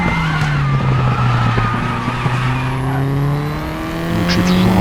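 Tatuus race car in the Raceroom sim racing game at Portimao, sliding on a bumpy corner: a loud engine tone with shifting revs under a sustained tire squeal and skid, no speech.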